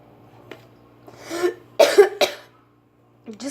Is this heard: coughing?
yes